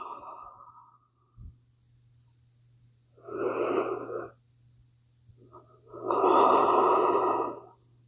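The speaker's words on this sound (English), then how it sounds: "Pausing here for 3 cleansing breaths." Deep cleansing breaths during a yoga flow for flexibility and stress relief: a soft exhale, then two long, full breaths, the second louder and rushing, close to the microphone against a faint steady hum, with no talk.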